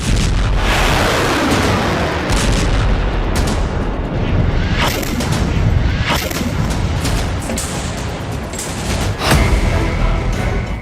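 Heavy explosions from a Hezbollah attack on Israel: a loud, continuous rumbling roar with several sharper booms that punch through the dense noise.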